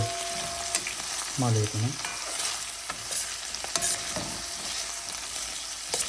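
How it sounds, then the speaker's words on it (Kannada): Chopped onion hits hot oil in a sambar tempering and is stirred, giving a continuous close sizzle of frying with scraping stirs and sharp clicks of the spoon against the pan; a few words are spoken briefly. "ಒಗ್ಗರಣೆ ಮೇಲೆ ಉಳ್ಳಾಗಡ್ಡಿ ಹಾಕಿ ಕೆಂಪಾಗುವಂಗೆ"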